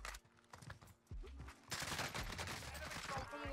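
Gunfire in the Call of Duty: Warzone video game, a dense rattle of automatic shots that builds into a sustained loud barrage, with brief voice fragments underneath.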